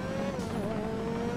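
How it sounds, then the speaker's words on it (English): Engine of a modded real-life race car in GTA 5 revving hard and steady, a sustained high-pitched whine that rises slightly, loud and close with no talk over it. "It sounds like literally an F1 race car."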